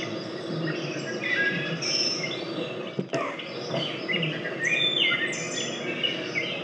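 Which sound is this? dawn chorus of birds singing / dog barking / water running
dawn chorus of birds singing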